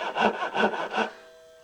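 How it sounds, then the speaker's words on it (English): A DeWalt pull saw's fine side crosscuts wood in three quick rhythmic rasping strokes, close and crisp, then fades to near silence. "you could use the finer side on here as a cross cut"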